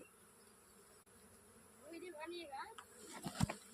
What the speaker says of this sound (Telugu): చూసా ఎన్ని ఈగలు, ఇవన్నీ మొత్తం ఇలా వెళ్ళిపోయింది.